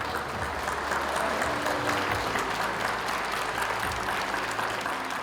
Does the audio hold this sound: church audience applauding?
yes